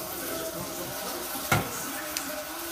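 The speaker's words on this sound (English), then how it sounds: "You're going to put half a can of tomato sauce, and it's going to start making sizzling noises." Soft, continuous sizzling of canned tomato sauce frying in hot oil for red rice, with a brief clatter of a utensil against the pan partway through.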